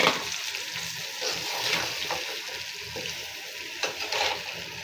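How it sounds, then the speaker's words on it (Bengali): Raw tomato and potato fry with garlic and onion in a pan, giving a close, moderate sizzle broken by a few scraping stirs and light knocks, with no talking. "এখন আমি বিসমিল্লাহ কাঁচা টমেটো আর আলু দিয়ে দিব।"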